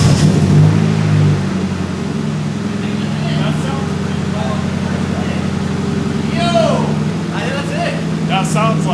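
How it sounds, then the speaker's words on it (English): A Nissan 240SX fitted with a temporary ECU runs at a steady idle, its engine hum continuous and fairly loud while people talk over it. "now we start the car and cross our fingers"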